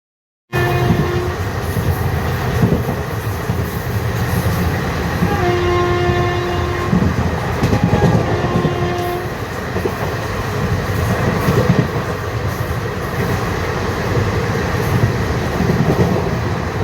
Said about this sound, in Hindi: सो गाइज अभी हमारी ट्रेन पहुंच चुकी है रेवाड़ी जंक्शन।